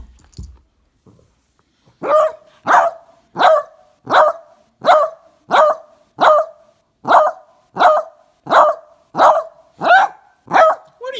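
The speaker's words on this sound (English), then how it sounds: "What are you barking at, Simba?" A dog barks repeatedly in an even rhythm, about a dozen loud, close barks with no one talking.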